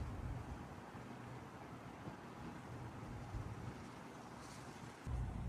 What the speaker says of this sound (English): Hang on, it's breezy.